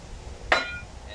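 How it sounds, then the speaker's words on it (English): A single sharp hammer blow drives a nail into a wooden feeder top box for a two-frame mating nuc hive, one crisp impact standing out against a quiet room. "Then I get the old framing square out just to make sure everything's square before I keep nailing."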